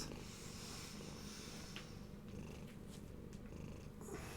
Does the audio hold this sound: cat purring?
yes